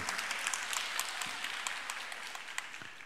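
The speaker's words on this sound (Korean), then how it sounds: "박수." A church congregation applauding during a Sunday service, steady, dense clapping from many people filling the room, with a brief voice underneath.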